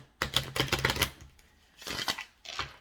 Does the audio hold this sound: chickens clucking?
no